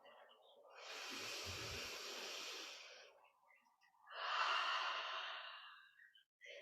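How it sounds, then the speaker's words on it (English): Two slow, deep breaths during a yoga practice, each a long soft airy inhale or exhale lasting a couple of seconds, close and quiet with a short pause between them. "Take your time with one more full breath."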